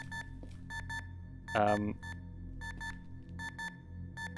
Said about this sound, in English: It does set off an alarm.